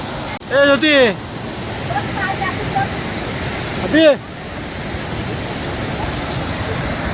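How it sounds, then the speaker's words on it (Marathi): A steady, broad rush of a small monsoon waterfall at Mahuli Fort runs throughout, with a couple of short voices briefly heard over it. "तो धबधबा आहे बघा आमचा छोटासा धबधबा"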